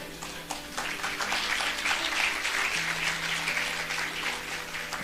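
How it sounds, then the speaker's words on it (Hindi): A crowd at a spiritual talk claps in sustained applause, a dense, even patter of many hands that stays steady and fairly loud throughout. "देखो तालियां बज रही हैं, यही चाहिए।"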